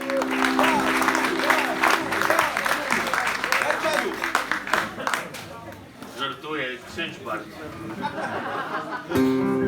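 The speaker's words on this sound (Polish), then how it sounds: "Jasiu Muzykant, wielkie brawa po raz trzeci na zlocie offline" A crowd in a full hall at a fan meetup breaks into lively applause, dense clapping mixed with chatter and some laughter, thinning toward the end as voices rise.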